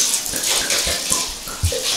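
Water pours steadily into a container to soak grains for a plant-based muscle-building mix, a continuous splashing rush with small gurgles, close and fairly loud, with no voices.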